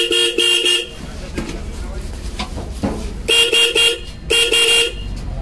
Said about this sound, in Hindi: इसके अंदर हॉर्न आ गए, ठीक है जी।